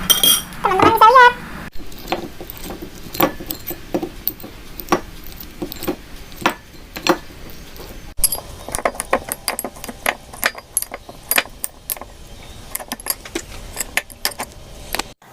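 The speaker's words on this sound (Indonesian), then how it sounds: "kita lumatkan keduanya, pisang sama pepaya ini, dengan sendok dan juga garpu" Banana and papaya mashed in a bowl with a spoon and fork, giving a series of sharp metallic clinks and taps at an irregular rhythm, close and fairly loud, with a voice talking briefly at the start.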